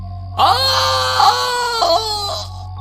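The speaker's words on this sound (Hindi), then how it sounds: "एक जोरदार भयानक चीख की आवाज आई।" A long, loud, wailing scream with a harsh, tonal quality rises sharply and wavers over about two seconds above a low steady hum, used as a sound effect in an animated Hindi horror story set on a haunted train.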